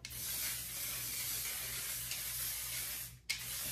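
Aerosol hairspray sprayed all over curly hair, a fairly quiet continuous hiss that breaks off briefly near the end before resuming.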